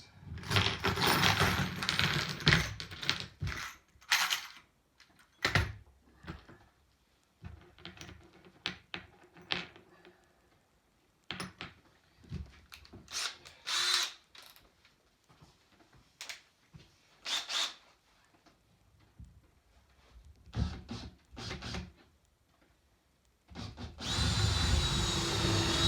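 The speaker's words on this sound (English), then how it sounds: "pilot holes first" Power drill boring pilot holes on a Druine D31 Turbulent homebuilt aircraft, heard as repeated short whirring bursts with quiet gaps between them, close by, ending in a longer steady run.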